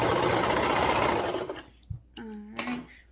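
A sewing machine runs a long continuous burst of stitching along a sleeve seam, loud and close, then stops and leaves only a few faint handling sounds and a brief murmur of voice.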